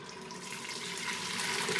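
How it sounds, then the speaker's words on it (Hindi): Yakhni broth for a veal pulao pours steadily into an Instant Pot, a continuous soft splashing trickle heard alone and faintly for a couple of seconds. "अब मैं इसमें शामिल कर रही हूँ यखनी।"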